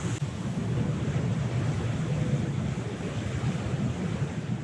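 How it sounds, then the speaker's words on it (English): Big waves and strong wind, up to 40 knots, around a Lagoon 46 sailing catamaran at sea. A steady, loud roar of surf and wind noise continues throughout, with no voices. "That's a couple of big waves."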